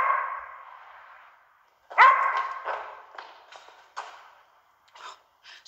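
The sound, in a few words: dog barking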